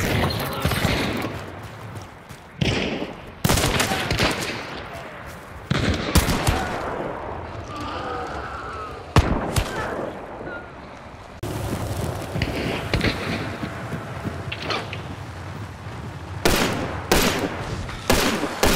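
Bursts of gunfire in the video game Hunt: Showdown, several loud sharp shots and rapid volleys separated by short quiet gaps, with wind in the background and little talk.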